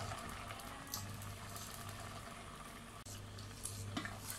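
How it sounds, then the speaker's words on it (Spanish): Chicken meat sears in a pan for pollo con tomate, a steady, dense sizzle and crackle with a low hum running underneath and one brief dip near the end. "Lo dejamos un ratito hasta que termine de soltar el jugo la carne y se termine de sellar bien por todos lados"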